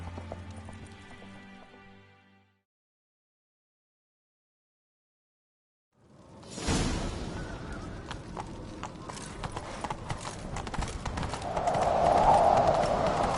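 Horse hooves pounding in a gallop in The Witcher 3: Wild Hunt, loud and dense over game ambience, rising after a sudden stretch of silence.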